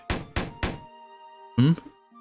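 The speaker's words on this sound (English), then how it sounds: "I'm startled from my reverie as a loud banging on my door." Three loud, heavy knocks bang on a door in quick succession, followed by a brief musical tone.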